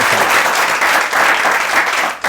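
Sustained audience applause at a Kenyan talk show, dense steady clapping from a crowd throughout, loud and close with no speech over it.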